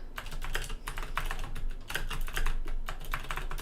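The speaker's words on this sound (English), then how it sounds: "I can't type and talk either." Steady typing on a computer keyboard, a continuous run of close, crisp key clicks with irregular rhythm and occasional louder strokes, heard alone without speech.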